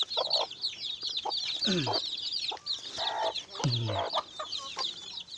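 Rhode Island and Black Australorp chickens cluck repeatedly and close by, with short overlapping calls and busy chirping from other birds filling the background throughout.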